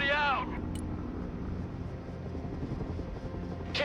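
Chinook helicopter in the video game Broken Arrow, a low rotor rumble droning steadily under brief radio-style voice chatter.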